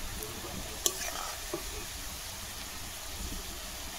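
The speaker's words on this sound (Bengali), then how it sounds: "পেঁয়াজটাকে আমি একদম লাল লালভাবে ভেজে নেব।" Onions frying in a pan for a village-style Bengali chicken curry with ground spices, a steady close sizzle running throughout with a couple of brief clinks from stirring.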